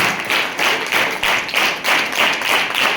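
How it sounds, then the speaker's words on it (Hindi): Dense rhythmic clapping from a crowd of visually impaired students at a National Science Day celebration, steady and fairly loud, filling the space with no voices over it. "ये तालियां जो बज रही हैं"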